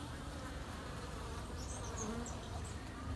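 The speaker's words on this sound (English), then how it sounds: "It has working bees on it, and it's got some capped honey" Worker bees crawl over a frame of drawn comb with capped honey, their steady, close buzzing hum filling the air continuously with no talk.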